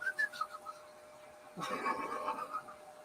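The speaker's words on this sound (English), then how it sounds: "so I can whistle really good" A person whistles a few short rising and falling notes, then a louder, more breathy run of whistled tones, close and clear with no talking.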